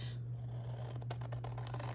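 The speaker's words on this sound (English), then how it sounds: "Get my big scissors" Large scissors snip through polka dot scrapbook paper for a planner page, a few quiet crisp cuts over a steady low hum, no talking.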